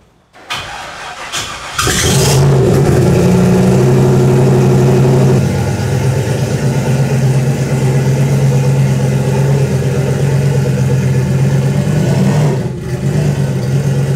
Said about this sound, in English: First cold start in a while.